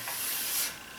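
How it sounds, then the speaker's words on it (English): Hand sanding of inside corners on a wooden children's tower project, roughly 150-grit paper, giving a steady close-up rubbing hiss that swells briefly and then eases off, with no talking. "Sanding is kind of up to you, but on this project, these inside corners, basically what I'm doing is just breaking everything down to about a 150"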